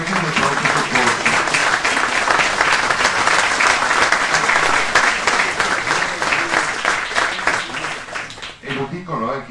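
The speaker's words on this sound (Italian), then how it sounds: "Quindi io veramente chiederei un applauso a tutti, per tutti quanti i medici, soprattutto per quelli del pronto soccorso." A large audience at an Italian hospital's new emergency department inauguration gives a long, loud round of applause for the doctors, continuous clapping that fades out near the end.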